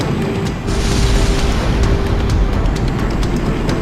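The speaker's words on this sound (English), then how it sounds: "Cannon firing!" Cannon fire and a heavy explosion in the PSP flight combat game Ace Combat X: Skies of Deception, a deep booming roar that swells after a brief dip and then holds as a sustained rumble.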